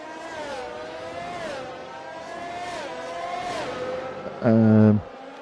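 Race cars circling a track at a Hungary race: a steady engine drone with engine pitch rising and falling as cars pass, then a louder, harsher passing car near the end, under a commentator's voice.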